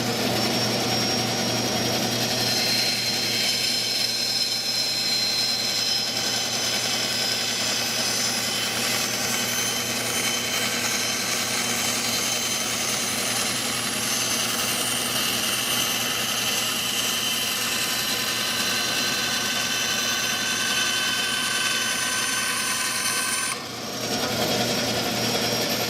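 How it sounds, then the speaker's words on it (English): A bandsaw cuts through wood with a steady loud whine and rasp lasting over twenty seconds, then the pitch drops briefly near the end before the cut resumes. "clearly I've lost my skills with the bandsaw, so I cannot seem to make a straight cut."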